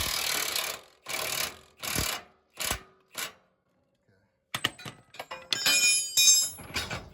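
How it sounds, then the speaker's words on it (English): A wrench works loose a leaf spring hanger bolt on a straight-axle truck: several broad hissing bursts, a short pause, then a run of quick, sharp metallic clicks and rattles up close. "So I'm going to loosen up the bolt."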